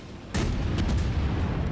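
Warship guns fire in World of Warships as one sudden heavy boom breaks a quiet moment, then a rumbling roll and a few fainter cracks follow.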